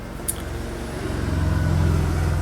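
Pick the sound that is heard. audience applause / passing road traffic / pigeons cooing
passing road traffic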